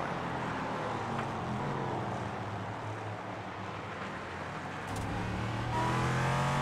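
Race car engines in a sim racing esports broadcast at Mid-Ohio Sports Car Course, a continuous distant drone of multiple cars with a sharper rising rev near the end, fairly quiet.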